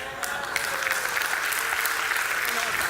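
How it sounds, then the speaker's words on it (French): A church congregation applauds a couple celebrating their 49th wedding anniversary, with steady, dense clapping filling the room throughout while a voice speaks over it. "Oui, applaudissez."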